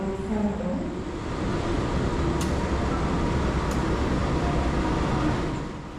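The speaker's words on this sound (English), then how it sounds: "And here comes our train now." An Indonesian passenger train of a locomotive, generator car and compartment suites coach pulls into a station, giving a loud, steady rumble and roar that holds for the whole stretch with no talking.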